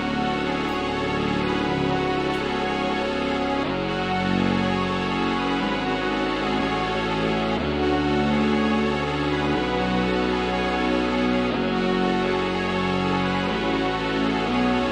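A new wave style synth track plays back from an FL Studio project: steady, dense layered synths over a bass line that shifts notes every couple of seconds, evenly loud throughout with no voice.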